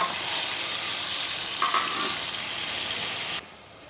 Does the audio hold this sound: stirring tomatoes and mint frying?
yes